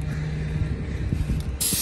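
Aerosol spray can hissing lubricant onto the rusty joints of a boat trailer, a steady close spray running almost two seconds with a brighter burst near the end, no voices.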